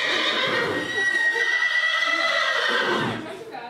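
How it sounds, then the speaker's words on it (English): A trick-trained horse rears and lets out a long, loud, close whinny that carries for several seconds, with a rider aboard during a trick training clinic. "there she just rode a rearing horse"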